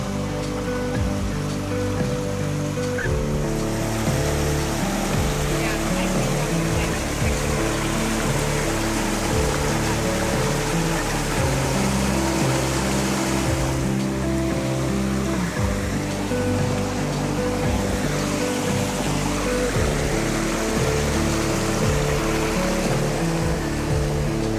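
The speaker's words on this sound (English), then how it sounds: "what I loved more than anything else was the waterfall." A waterfall near Casper, Wyoming roars steadily and loudly, a dense continuous rush of falling water with no voices.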